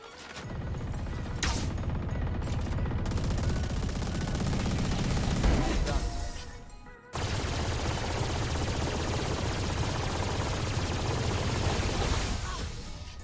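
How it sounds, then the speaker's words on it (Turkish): Two shock arrows fired together by Sova in Valorant, a loud sustained burst of gunfire-like crackle and impacts that breaks off briefly near the middle, then a second dense volley running to the end. "iki ok aynı anda atıyorum"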